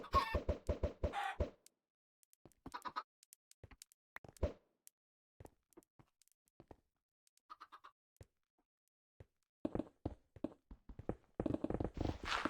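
Chickens in Minecraft cluck in short, sparse bursts, some close and loud, others fainter, with taps and footstep-like clicks between the calls and quiet gaps, and no talking.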